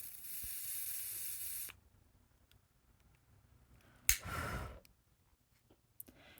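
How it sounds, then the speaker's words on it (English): A rechargeable electric lighter melting the cut ends of crochet yarn gives a brief hiss and crackle, standing out alone from near silence after a steady hiss fades, with a faint click later. "I have an electric, you can get a regular lighter if you want, but this is my rechargeable one. So what I do is I like to melt these"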